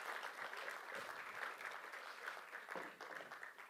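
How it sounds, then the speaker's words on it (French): Audience at a Europe–Africa cultural and economic forum applauding a guest called to the stage, continuous dense clapping, faint and somewhat distant, steady throughout. "Merci d'applaudir."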